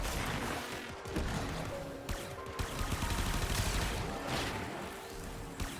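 Dense, continuous gunfire in the sci-fi shooter Warframe, a loud, busy mix of overlapping shots and impacts running through the whole stretch with no clear pauses.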